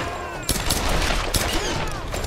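Sustained gunfire rattles through a Tomb Raider firefight, dense bursts of shots layered into a steady fusillade with a few sharper cracks standing out.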